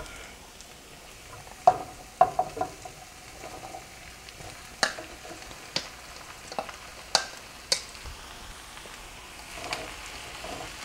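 Onions and peppers fry in a crowded pan with a steady soft sizzle, and scattered sharp ticks and scrapes from a spatula stirring the vegetables come through, all close and fairly quiet.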